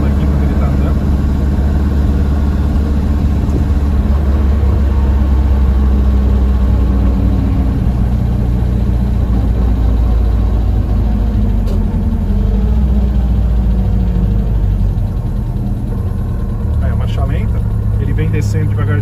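A BMW 320i E21 engine running on ethanol with a MoTeC M4 ECU drops back and settles to a steady low idle, its rumble continuous and close under someone talking.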